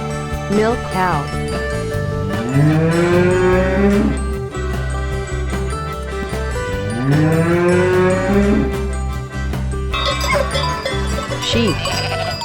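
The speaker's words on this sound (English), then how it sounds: "Milk cow." A dairy cow gives two long, drawn-out moos, loud and close, with a faint jingle and a steady musical background beneath.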